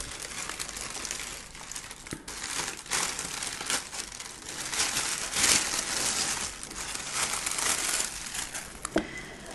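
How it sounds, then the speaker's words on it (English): Tissue paper from luxury Creed perfume packaging crinkles and rustles continuously up close, soft irregular crackles with a few louder crunches and no talking. "Some more of this tissue paper."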